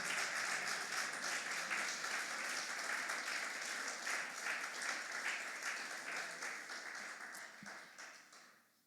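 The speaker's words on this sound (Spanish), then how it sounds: "denle un aplauso a Cristo" A church congregation breaks into sustained applause, a dense wash of many hands clapping that holds steady and then tapers off toward the end.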